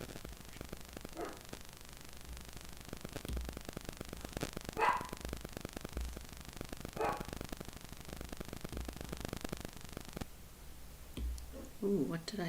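A few scattered, muffled dog barks sound from a distance, mixed with steady light tapping and clicking close by.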